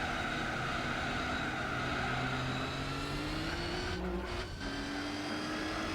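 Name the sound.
Volkswagen Nardo W12 concept engine in video game Gran Turismo 4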